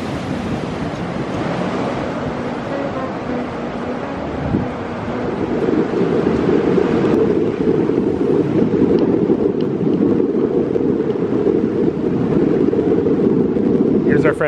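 Strong wind buffets the microphone on a beach, a steady loud roar with surf mixed in, gusting harder after the first few seconds; people talk faintly underneath at the start.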